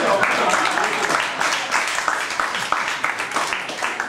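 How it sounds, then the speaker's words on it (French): Audience applause at a live comedy sketch, steady dense clapping filling the whole stretch, with voices mixed in underneath. "On peut l'applaudir."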